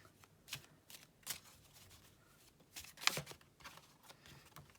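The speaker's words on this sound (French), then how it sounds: "je vais les brasser à nouveau" Tarot cards are shuffled by hand in a quiet room, a few soft riffling bursts and flicks spaced out over several seconds.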